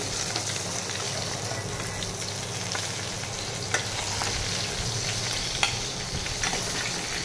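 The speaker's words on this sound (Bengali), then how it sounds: "এখন মাছের মাথাগুলো তেলের মধ্যে দিয়ে দিচ্ছি, ভেজে নেবো ভালো করে।" Hilsa fish heads fry in mustard oil with a steady, close sizzle and occasional crackling pops, with no voices.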